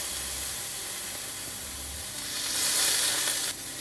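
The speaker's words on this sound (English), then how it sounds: "Gotta love that sizzle." Steady, loud sizzling of kale frying in a hot pan, a continuous crackling hiss that swells briefly near the end.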